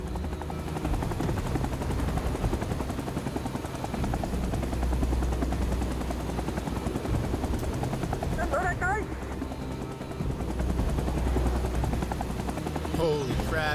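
A Huey helicopter in Rising Storm 2: Vietnam chops steadily and loudly through a hot landing zone, with gunfire crackling around it, brief radio-like chatter and sharp bursts near the end.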